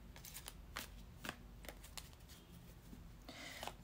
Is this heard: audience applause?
no